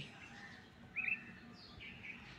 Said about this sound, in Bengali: এইখানে একটা পাখি উড়ে আসছিল